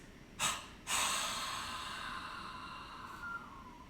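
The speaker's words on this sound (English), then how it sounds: "On the last one, you exhale completely like this." Two quick sharp breaths, then a long forceful exhale that empties the lungs during a breathing kriya exercise, airy and close, fading slowly into quiet.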